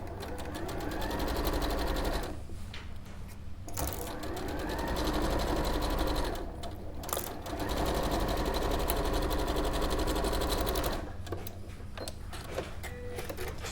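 Domestic sewing machine running a straight stitch through six layers of quilting fabric with a quarter-inch foot, in bursts of rapid mechanical clatter broken by short pauses, fairly close and loud with no speech over it.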